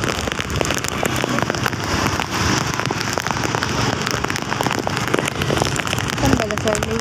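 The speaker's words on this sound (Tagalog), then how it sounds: "Umulan na naman pa." Heavy rain pours steadily onto surfaces near a flooded terminal area, a loud dense patter with sharp drop impacts, while people speak briefly underneath.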